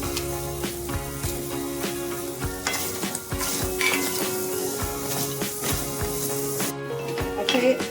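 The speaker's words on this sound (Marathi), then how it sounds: "आता कढईत आपण आवळे टाकून घेतले आणि थोडासा गुळ घालूया" Repeated scraping and stirring of amla and jaggery in a kadhai over a soft sizzle, with rhythmic clinks of a utensil against metal and no talking.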